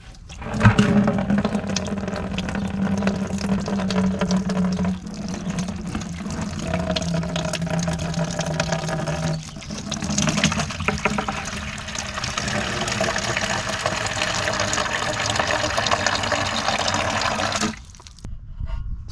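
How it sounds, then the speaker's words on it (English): Water rushes and gurgles steadily while flushing through the fuel system of a 1946 John Deere B tractor, a loud, continuous pour that cuts off abruptly near the end, with no voices. "So I had to fill the system up and flush it with water 3 times before it started to run clear."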